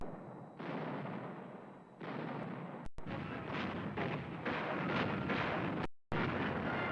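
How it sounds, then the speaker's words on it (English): French artillery fire from the Second World War sounds as a dense series of heavy booms and rumbling blasts, loud and continuous, with brief gaps of silence. "French artillery."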